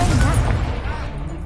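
Confringo spell explosion in the video game Hogwarts Legacy, a single loud booming burst that rumbles and fades over about a second.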